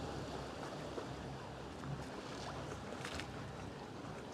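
A boat passes close by at a cherry blossom festival, a steady broadband wash of engine and water noise that holds level throughout with no talk over it.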